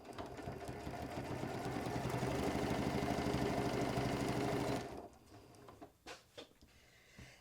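A Janome sewing machine runs steadily while stitching a quillow of soft, plush Shannon fabric. The even, close mechanical whir lasts about five seconds, then stops, leaving a few soft handling bumps and taps.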